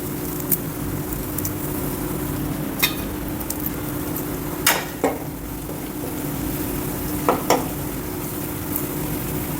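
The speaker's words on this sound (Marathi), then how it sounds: "आता यामध्ये आपण थोडेसे कढीपत्ते घालूया" Curry leaves dropped into ginger-garlic paste frying in a pan give a soft continuous sizzle, broken by a few sharp crackles and spoon clinks against the pan.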